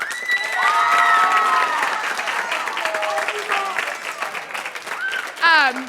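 A school spring concert audience claps and cheers loudly and steadily for the performers' parents, with excited voices and high shouts rising over the applause.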